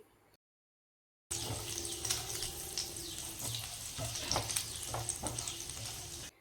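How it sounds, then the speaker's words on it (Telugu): Finely chopped garlic sizzles in melted butter in a pan, a steady close crackle and hiss with small pops and a stir or two, starting abruptly after a brief silence. "మొత్తం మెల్ట్ అయ్యాక చిన్నగా కట్ చేసుకున్నటువంటి వెల్లుల్లిని వేసుకోవాలి."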